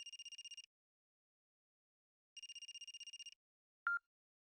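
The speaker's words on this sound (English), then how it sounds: "Phone's ringing." An in-game telephone rings in Another Code: Journey Into Lost Memories: two clean bursts of rapid electronic trilling separated by silence, followed by a single short beep.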